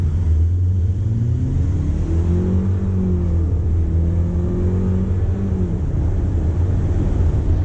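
A 2019 Buick Cascada pulling away from a green light, its engine note rising steadily as it accelerates, with low rumble and some wind noise over the microphone, heard from inside the car.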